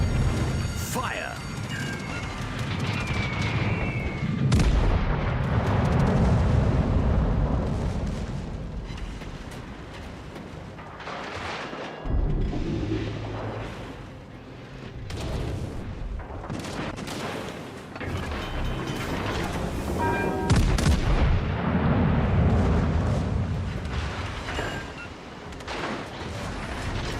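Warship main battery guns fire in World of Warships: Legends, with repeated heavy booming salvos and rumbling blasts rolling through a dense battle din while someone talks excitedly over the action.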